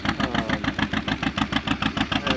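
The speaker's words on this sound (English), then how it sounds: "That's a pretty cool little tractor" A small two-cylinder BO tractor bought new around 1936 idles close by, its loud, even putt-putt pulsing about five times a second with no voices.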